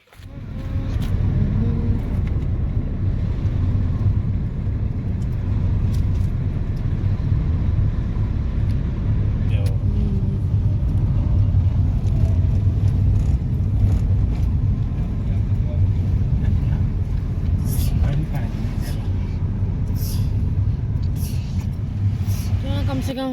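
A car drives slowly around hunting for a parking spot, its engine and road rumble steady and close from inside the cabin throughout, with people talking over it.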